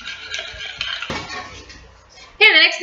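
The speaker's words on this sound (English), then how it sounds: "I'm going to pour 1 cup of boiling water into the bowl and stir" A spoon stirs jello mix and boiling water in a bowl, with scraping and clinking of utensil against the dish, ending in a sharper ringing clink.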